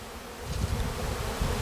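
A 3 lb package of honey bees is shaken out of its cage into a hive, giving a dense, close buzzing swarm that swells with each jolt along with some rough handling noise.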